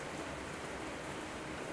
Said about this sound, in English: the glass of the window is assailed by numbers of heavy droplets of rain